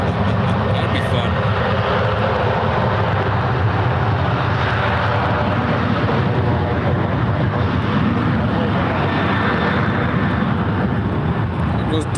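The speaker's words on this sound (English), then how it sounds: "Here goes Delta Airlines 2824 up to Seattle. It is a 20-year-old 737-800." A 20-year-old Delta Airlines Boeing 737-800 takes off from San Francisco for Seattle, its strong, continuous jet roar filling the whole stretch with a person speaking over it.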